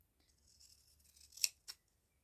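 Scissors snip chambray fabric scraps in a quiet setting, a soft slide followed by two crisp close cuts.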